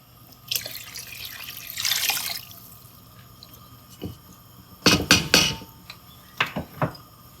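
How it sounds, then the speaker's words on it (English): Water splashes and pours in short bursts into a cooking pot of red lentil soup, with a few scattered knocks and clatters between pours, fairly quiet and close. "I'm going to add another 2 cups more water in there, and then let it cook"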